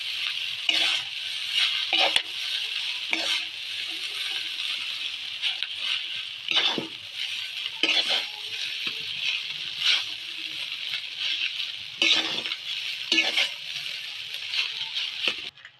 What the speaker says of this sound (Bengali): চাউমিনটা লেড়ে মিক্স করে নেবো সব কিছু সব সবজিগুলো একসাথে মিশিয়ে নেবো